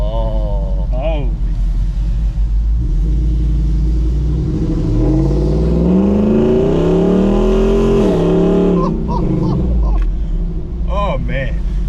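Nissan Y62 with a loud aftermarket exhaust roars up through a long rising rev while driving, deep rumble swelling then easing off, with short blips and excited voices talking over it.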